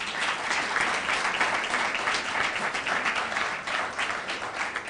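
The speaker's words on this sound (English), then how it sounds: "I think Justin deserves another round of applause." An audience at a hotel launch event applauds steadily, a dense, continuous wash of many hands clapping for several seconds without pause.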